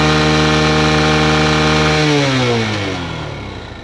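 Hero Honda Karizma R motorcycle engine, loud and close, holding a high rev before the pitch drops smoothly as it winds down toward idle.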